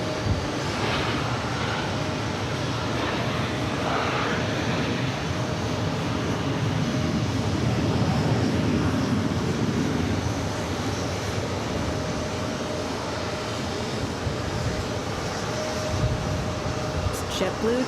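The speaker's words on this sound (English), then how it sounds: "JetBlue 2903 heading off to San Juan, Puerto Rico, A321." A JetBlue Airbus A321 jet departs JFK airport bound for San Juan, a steady broad engine roar that holds loud and continuous throughout, with a faint high whine running beneath it.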